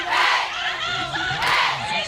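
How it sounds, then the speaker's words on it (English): A loud crowd roars and cheers at an 18U Premier fastpitch softball game at the PGF National Championships, a dense wall of voices that swells and stays high throughout. "The crowd is so loud right now."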